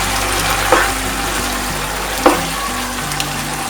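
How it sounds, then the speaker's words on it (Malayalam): Chicken breast pieces being stir-fried in dragon chicken sauce over a high flame, a steady loud sizzle broken by two sharp scrapes of a spoon against the pan, with no talking. "ഇതെല്ലാം ഈ സോസിലേക്ക് എടുത്ത് നന്നായിട്ട് മിക്സ് ചെയ്യാം."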